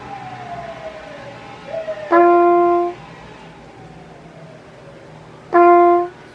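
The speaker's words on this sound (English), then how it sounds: "I'll wait for the siren." Two short bursts of a siren, each a loud steady tone lasting under a second, separated by a few seconds of quiet background with a faint falling whine.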